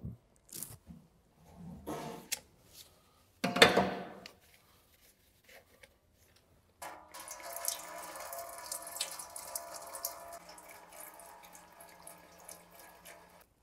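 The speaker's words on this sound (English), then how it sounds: "While the oil is draining from the oil pan" Transmission oil draining from the oil pan of an Audi S-Tronic 7-speed gearbox, first a few scattered splashes and drips, then a steady trickling pour into a container, fairly quiet and with no voices.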